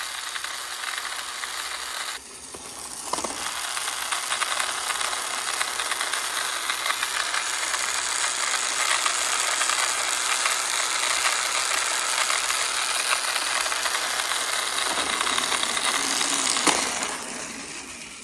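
A Tomy motorized toy train and Cranky crane mechanism run at Brendam Docks, giving a steady close whirring rattle of small motors and plastic gears with a few clicks and knocks at the start and near the end.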